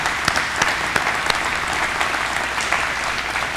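A luncheon audience applauds state champions with loud, sustained clapping from many hands, a dense continuous patter with occasional sharper individual claps.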